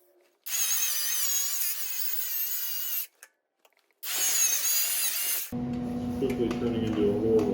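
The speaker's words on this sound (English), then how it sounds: "Just gonna wire wheel this off." A wire wheel on a power tool grinds loudly against a metal crossbar in two bursts, a harsh high whir separated by a short pause, followed by lower machine noise.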